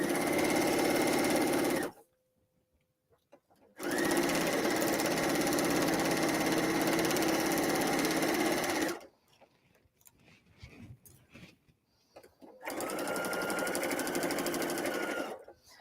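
A sewing machine stitches an insulated tea cozy in steady, loud bursts of running, separated by short pauses for repositioning the fabric, with no talking.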